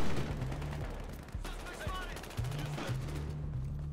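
Gunfire from the video game Battlefield Hardline during a heist mission, several sharp shots and short bursts in a dense, busy game mix, with a low repeating tone underneath.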